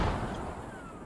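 Mortar fire in the military shooter game Squad, landing on a farming village: a loud, dull low boom that fades into a rumbling tail over about a second, with no talk over it.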